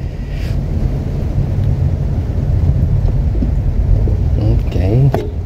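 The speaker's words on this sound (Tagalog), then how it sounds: "Lakas ng ulan, oh." Heavy rain roars steadily with low rumbling like thunder throughout, with a few faint voices and small knocks near the end.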